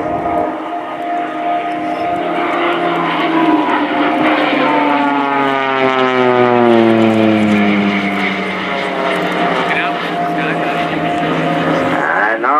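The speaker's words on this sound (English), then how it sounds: "look to your left where our soloist shows you a slow roll" A Swiss Air Force Pilatus PC-7 propeller aircraft flies a slow roll at the RIAT 2018 air show, a loud, steady droning engine whose pitch sweeps downward as it passes close by.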